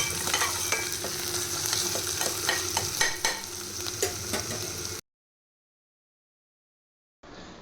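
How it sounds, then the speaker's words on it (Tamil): Onions sautéing with ginger garlic paste in a pan for prawn masala, a steady sizzle with scraping stir strokes for about five seconds, then silence before a short return of frying. "வெங்காயம் வதங்கினதுக்கப்புறம் கொஞ்சமாக இஞ்சி பூண்டு பேஸ்ட் போட்டு நல்லா வதக்கணும்."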